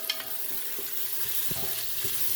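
Onions fry golden brown in hot oil for masala pulao, a steady close sizzle with occasional stirring scrapes and no talk.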